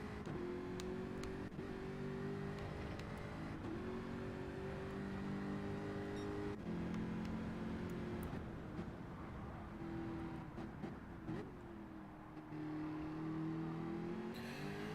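Race cars in a sim racing league game roar and rev continuously, engine pitch rising and falling as they battle closely through gear shifts, loud and steady throughout with no talk.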